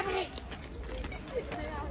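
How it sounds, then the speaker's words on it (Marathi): A bull is led along on foot, its hooves clip-clopping faintly beneath nearby voices talking over the steps. "बैल घेतला आता चालू केलाय."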